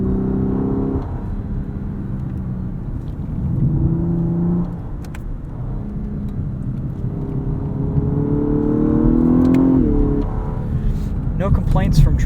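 A 2018 Lexus LS 500 RWD with a 10-speed torque converter automatic accelerates in manual mode on a road through redwoods, its engine drone rising and dropping as the paddle shifters change gears, with talk over the cabin hum.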